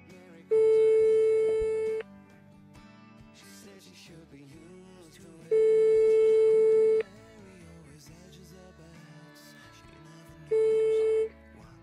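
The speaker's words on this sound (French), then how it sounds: "Ça sonne." A telephone rings during a prize-draw call, three long electronic tones, each lasting about a second and a half, separated by quiet gaps of several seconds, heard over faint background sound.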